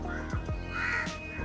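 Several loud, harsh crow caws repeat in close succession, near and clear, with no talking over them.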